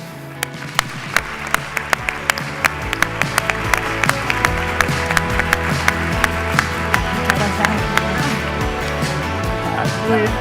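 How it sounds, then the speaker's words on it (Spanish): An audience claps in rhythmic time along with loud pop music as a speaker is welcomed at a university disability-awareness conference at the Universidad de Navarra. Sharp, regular hand claps ride over the steady music for the whole stretch. "Recibimos con un aplauso a Laura Toranzo Mediero."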